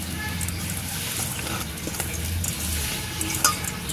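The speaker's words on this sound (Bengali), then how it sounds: "আমি অল্প লবণ দিয়ে নিচ্ছি। এটাকে মিক্সড করে নেব।" Boiled amla being mixed with salt, giving soft continuous scraping and stirring with a few light clinks from the utensil, heard alone and close.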